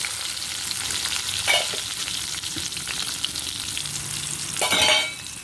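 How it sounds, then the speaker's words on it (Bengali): Eggplant slices sizzle steadily in hot oil, a continuous crackling hiss with occasional louder spurts as pieces shift in the pan. "বেগুনগুলো একটু হালকা লাল লাল করে ভেজে নেব"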